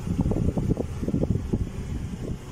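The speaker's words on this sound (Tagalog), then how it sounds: "you can press the plus button for faster blower or mas powerful na blower" Air-conditioning blower fan inside a 2020 Isuzu D-Max Boondock 4x4 with the 3.0 automatic, running as a steady close whooshing rush of air with a slightly fluctuating low rumble and no talking.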